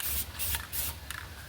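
Spray paint hisses onto the Enkei wheel centers of a 2003 Mitsubishi Galant during a refurbishment, in three or four short, close aerosol bursts with brief pauses between them and no talking.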